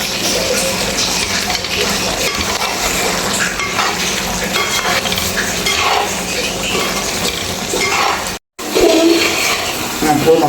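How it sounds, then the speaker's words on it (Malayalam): Soybean pickle is stirred in a hot pan, a loud, dense, continuous scraping and frying hiss that drops out briefly near the end before resuming. "നമുക്ക് ഒന്നുകൂടി ഒന്ന് ഇളക്കി കൊടുക്കാം."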